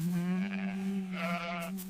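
A sheep bleats loudly and close in two quavering pulses over a steady low drone, the second pulse brighter and slightly stronger.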